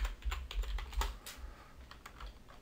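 Rapid keystrokes on a computer keyboard, a quick irregular run of clicks up close, fairly quiet and with no talking over them.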